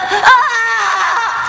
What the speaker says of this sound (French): Je ne veux pas de hurlements.